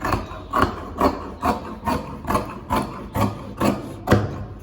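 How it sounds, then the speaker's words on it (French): Scissors cut through fabric for a basic bodice sewing pattern, about ten evenly spaced crisp snipping strokes, close and clear with no talking. "Maintenant, je prends mon ciseau, je vais couper."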